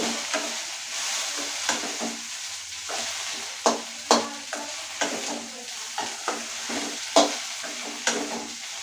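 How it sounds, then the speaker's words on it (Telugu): Okra frying in oil in a pan is stirred with a utensil, giving a steady close sizzle broken by repeated scraping clacks against the pan bottom, with no talk. "బెండకాయలను మధ్య మధ్యలో మిక్స్ చేసుకుంటూ ఉండాలండి లేకపోతే అడుగంటుతుంది"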